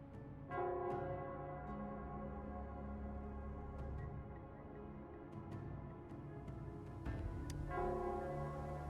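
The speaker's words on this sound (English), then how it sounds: "it's the Nell Squares bell." A town-square bell in the video game Wuthering Waves rings out in repeated struck tolls with long shimmering decays, layered over a sustained ambient musical bed throughout.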